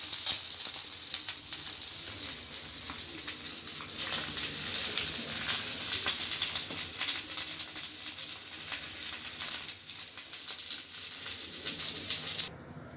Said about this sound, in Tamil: பாருங்கள், மீன் ஃபுல்லாக பொரிஞ்சிச்சு.